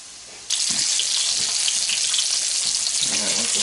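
Thin breaded steaks for a Chicago-style sandwich drop into a hot pan and burst into a loud, steady, bright sizzle that holds close and constant, with no one talking.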